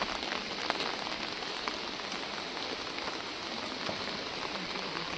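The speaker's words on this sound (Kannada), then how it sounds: "ಮಳೆ ಬೀಳ್ತಾ ಇದೆ ನೋಡಿರಲ್ಲ." Steady rain pours down on a mountain trail during the descent from the Tiger's Nest trek in Paro, Bhutan, a close, continuous hiss of drops hitting surfaces with no voices.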